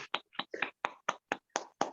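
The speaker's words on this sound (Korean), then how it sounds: "박수 한번 하겠습니다" A small group applauds in a room, about nine crisp, evenly spaced claps over two seconds, close and distinct with silence between them.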